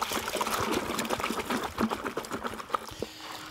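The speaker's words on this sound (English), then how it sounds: "We're gonna stir it up." Water with a little dish soap being stirred in a container for cleaning a snowmobile belt, making soft close sloshing and trickling with light clinks at an uneven rhythm.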